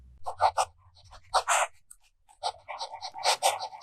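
Fountain pen loaded with red ink, medium nib, scratching across a national Steno notebook page in short bursts of strokes with brief pauses, close and clear.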